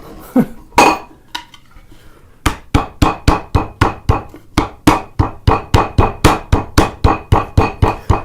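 A wooden half-blind dovetail joint being knocked together with a hammer: a couple of loose taps, then a steady run of about twenty sharp, evenly spaced blows, close and loud with no talk.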